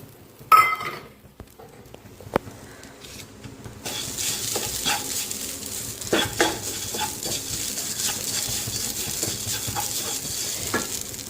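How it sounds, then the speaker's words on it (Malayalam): Grated coconut sizzles gently as it roasts in a pan over low heat while a spoon scrapes and stirs at irregular intervals, close by, with an occasional clink. "ഇനി നമുക്ക് ദാ ഈ തേങ്ങയൊക്കെ ഒന്ന് ഇട്ട് കൊടുത്ത് നന്നായിട്ടൊന്ന് റോസ്റ്റ് ചെയ്തെടുക്കാം"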